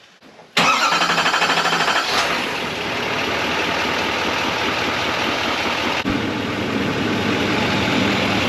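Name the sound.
vehicle engine starting after an oil change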